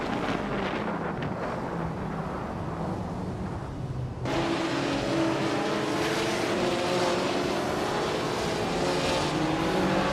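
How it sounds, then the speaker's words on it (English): A 1955 Mercedes-Benz 300 SLR race car in a video game races along with a loud, steady engine roar that jumps sharply to a higher, brighter pitch partway through as it accelerates, with wind rush throughout and no talking. "Hingle McCringleberry is driving a 1955 Mercedes-Benz 300 SLR"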